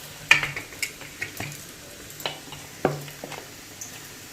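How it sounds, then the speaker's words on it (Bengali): Onion fritters (piyaji) dropped one by one from batter into hot oil, each splash a sharp splat followed by a short sizzle, about eight drops spaced irregularly over a low steady hiss of frying. "একই রকমভাবে সবকটি পেঁয়াজিকে ব্যাটার থেকে গরম তেলে ছেড়ে দেওয়া হবে।"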